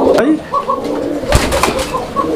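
Lahori pigeons give low, repeated coos at close range, mixed with the flutter and shuffle of birds and someone talking through it.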